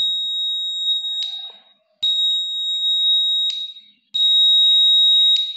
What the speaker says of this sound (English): let us see whether the buzzer is making sound or not